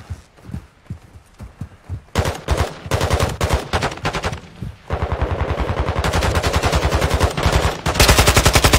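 Automatic gunfire in Warzone 2: loud, fast bursts that grow into long sustained rattles, close and dominant, following a few softer repeated thuds at the start.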